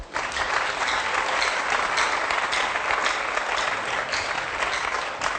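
A church congregation breaks into loud, sustained applause, a dense wash of clapping that carries evenly for several seconds with no talking over it.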